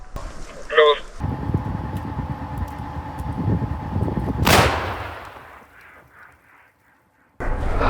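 A single heavy artillery gun shot booms at close range, its blast rolling off into a fading echo, with background rumble and clatter before it.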